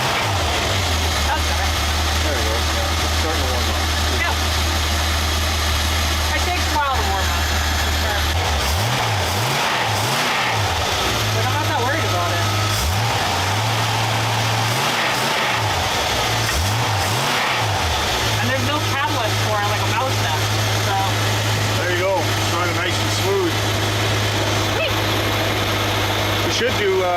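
A car engine idles steadily as it warms up in a garage setting, a low constant hum running throughout with brief surges and dips in the middle, while people talk over it.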